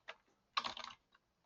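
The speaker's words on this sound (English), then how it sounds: "a little bit of typing" A few quick keystrokes on a computer keyboard, a single tap, then a short burst of typing and one last click in a quiet room.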